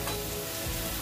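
Potatoes fry in a pan, a faint, steady sizzle that stays even through a brief moment, with no voices.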